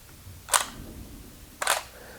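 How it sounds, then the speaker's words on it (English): An SLR camera fires at a one-second shutter speed: a sharp mechanical clack as the mirror flips up and the shutter opens, a second of quiet, then a second clack as it closes and the mirror drops back, close and crisp. "the mirror lifts up and then the shutter opens for 1 second and then closes and the mirror goes back down"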